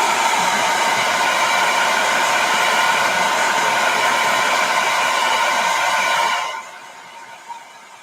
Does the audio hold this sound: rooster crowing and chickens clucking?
no